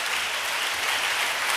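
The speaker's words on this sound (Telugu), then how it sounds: "మరి గట్టే చప్పలు కొట్టాలి." A church congregation claps together, a loud, even burst of close applause that holds steady throughout with no pause.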